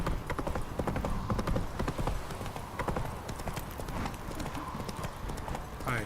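Horse hooves clip-clop in the video game The Witcher 3: Wild Hunt, a busy, steady run of close hoofbeats with a brief whinny-like cry near the end, while a voice speaks over it.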